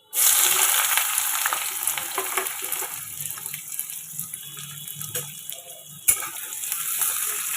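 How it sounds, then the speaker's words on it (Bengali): Chopped onion hits hot oil already tempered with five-spice seeds, bursting into a loud, steady sizzle that spits and crackles throughout, with a sharp clatter near the end before the frying resumes. "এবার দিয়ে দেবো পেঁয়াজ কুচি"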